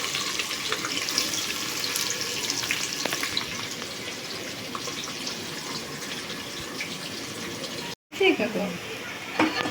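Onions frying in a pan for chicken biryani give a steady, dense sizzle close by, with a brief dropout near the end followed by louder crackling bursts as the pan is stirred or shaken.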